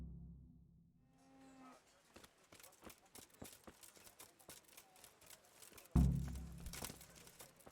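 Cattle mooing in Kingdom Come: Deliverance: a low lowing call from a cow in the medieval game, then a louder close burst around the sixth second over busy in-game ambience.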